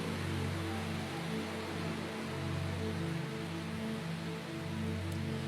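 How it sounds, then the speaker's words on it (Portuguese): Steady rain falling on a surface, a dense even hiss that holds at constant loudness throughout, with no voices. "A chuva chegou."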